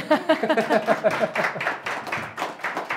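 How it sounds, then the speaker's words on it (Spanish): An audience at a Value School talk applauds, a fairly close spread of hand claps, quick and uneven, that thins out toward the end. "no hay que apagar el aplauso cuando sale espontáneamente"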